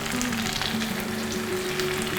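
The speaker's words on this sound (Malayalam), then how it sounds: "ഉള്ളി തക്കാളി നല്ല സോട്ടായി വന്നിട്ടുണ്ട്" Onion and tomato sauté in a pan with a steady, close frying sizzle that continues evenly throughout, with no talking.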